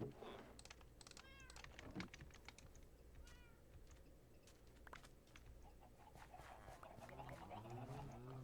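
Minecraft cat meowing in repeated short calls, faint and mixed with rapid computer keyboard typing and a voice talking in the background.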